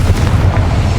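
Confringo explosive spell blast in the Hogwarts Legacy video game: a loud, heavy, rumbling boom that holds steady through the full second without fading.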